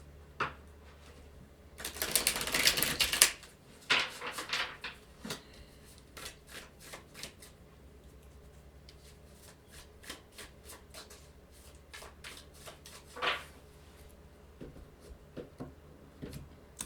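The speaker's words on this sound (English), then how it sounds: "I feel like the cards really want to speak to you because I usually shuffle longer than that." Tarot cards are shuffled by hand in soft riffling bursts, louder at first and then trailing into scattered light flicks and taps, close and quiet with no talking.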